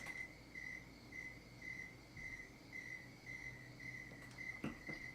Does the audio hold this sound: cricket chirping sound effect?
yes